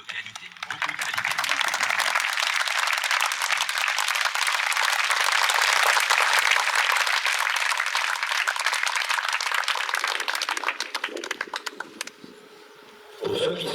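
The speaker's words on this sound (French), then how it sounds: "on peut tous les applaudir, beaucoup de qualité, beaucoup de qualité." Sustained, dense applause from a crowd at a youth football camp prize event, loud and continuous for about twelve seconds before fading, with some voices mixed in.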